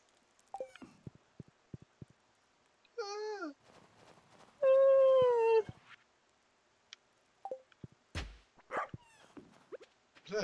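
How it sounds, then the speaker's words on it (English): Whimpering dog sounds from the farm dog in the video game Stardew Valley, heard as a few short rising whines and one longer drawn-out whine, with a person's sighs and scattered voice sounds around them. "The dog."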